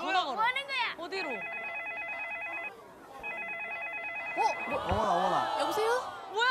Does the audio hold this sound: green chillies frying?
no